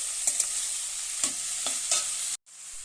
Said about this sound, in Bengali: আমি কড়াইতে থোরটা দিয়ে দিয়েছি, এবার নেড়ে চেড়ে নেব।